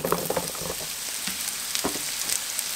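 Mushrooms fry in leftover bacon grease in a pan, a close, continuous crackling sizzle with small pops and a few stirring scrapes.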